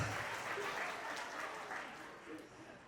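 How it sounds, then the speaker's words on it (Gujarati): An audience at a community get-together claps together in a dense, steady wash of applause that holds strong for a few seconds before slowly fading. "તાળી પાડો."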